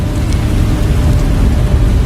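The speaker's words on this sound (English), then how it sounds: "More rain." Dense rain from the video game Beast of Reincarnation, a loud unbroken hiss with low rumbling underneath that suggests distant thunder, heard alone without any voices.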